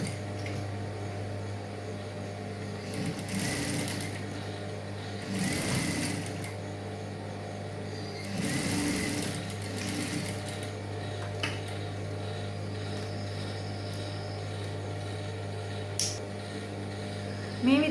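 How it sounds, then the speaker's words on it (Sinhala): A sewing machine stitches an outline seam on frilled trousers: a low steady motor hum with a few louder whirring bursts of stitching, close by. "මේ විදිහට අපි ඕලොක් මැහුම් වාසිය පිටුපස පැත්තට තියලා අවුට්ලයින් එකක් දාගෙන තියෙනවා"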